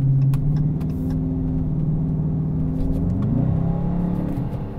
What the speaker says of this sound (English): I'm going to wait for this car to pass.